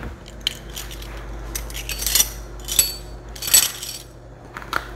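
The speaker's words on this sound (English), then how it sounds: "Let me grab my measuring spoons right behind me here." Metal measuring spoons clink and rattle in short bright bursts as they are grabbed and handled in a home kitchen while cooking beef stew, with several sharp jingles over a low background hum.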